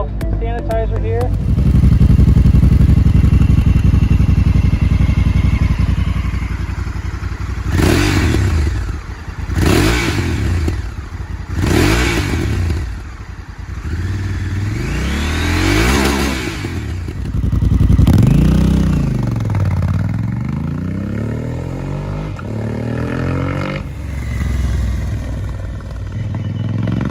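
Honda CRF1100L Africa Twin fitted with a Yoshimura RS-12 slip-on muffler, loud and close: a steady idle, then several sharp throttle blips and rising revs, with a voice talking over parts of it.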